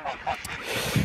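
Geese honk in a poultry pen on a small breeding farm, a few short nasal calls close by over a busy background of other fowl, ending with a louder low honk.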